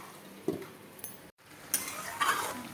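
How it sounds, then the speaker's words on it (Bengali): Goat meat curry being slowly sautéed in an open kadai, with a few soft clinks and scrapes of a spoon against the pan over a low sizzle, briefly interrupted by a moment of silence. "মাংস যেহেতু সেদ্ধ করে আমি কড়াইতেই সুন্দর করে কষিয়ে কষিয়ে রান্না করবো"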